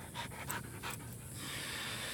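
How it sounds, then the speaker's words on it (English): German Shepherd and Lab mix dog panting close by, quick rhythmic breaths in a fast series that settle into steadier breathing, fairly quiet, no voices. "Coda is a German Shepherd and Lab mix"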